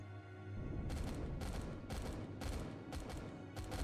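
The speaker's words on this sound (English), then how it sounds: "the cannon turrets on the ship and the state defense station here were shooting away" Rapid bursts of heavy cannon fire from capital-ship turrets in the video game Empyrion Galactic Survival repeat every half second or so over a constant low rumble, loud and close, with no voices.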